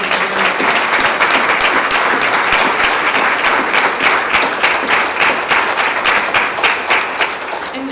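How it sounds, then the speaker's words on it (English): A conference audience bursts into a loud, sustained round of applause for the organizing team, thick continuous clapping that holds strong for about eight seconds before tapering a little. "can we give a round of applause to the team?"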